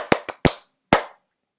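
Hands clap out a short rhythm: three quick claps, a pause, then one final clap, close and crisp in a quiet room.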